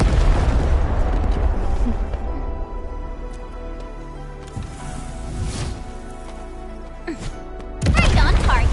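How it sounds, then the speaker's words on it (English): A video game explosion in Arknights Endfield: loud, dense rumbling blasts open the stretch and burst again near the end, with continuous game sound filling the quieter middle. "I give that explosion a 10 out of 10"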